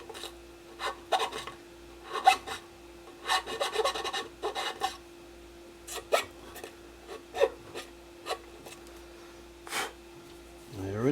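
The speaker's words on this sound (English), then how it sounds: "I use a file and a downward cut to trim off the extra foil" A file rasps downward along the edge of copper foil shielding on a guitar, trimming the excess in short separate strokes with pauses between them, close and fairly loud.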